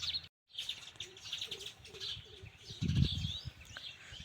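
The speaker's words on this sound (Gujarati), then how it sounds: "જો ચકલા પણ આવી ગયા છે નકરા" Sparrows chirp busily around nest boxes set up near a temple, with repeated bright tweets and calls over a soft outdoor background, fairly close and with no talking.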